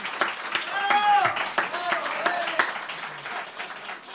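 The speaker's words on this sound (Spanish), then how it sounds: "¡Por favor, un aplauso para él!" A comedy show audience applauds a guest on stage, the clapping spread and fairly even throughout, with voices and stage sounds layered over it.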